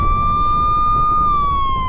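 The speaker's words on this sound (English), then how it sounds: "Do some sirens and explosions and Phil, go on." A wailing police-style siren sound effect plays loud and close on its own, a steady high tone that holds and then dips slightly, with no talk over it.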